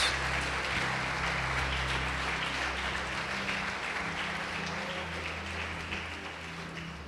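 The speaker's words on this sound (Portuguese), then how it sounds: "Pode aplaudir e glorificar o Senhor Jesus" A church congregation at an evangelical Portuguese-language service applauds in praise, a steady wash of clapping from many hands that fills the room and holds at an even level throughout.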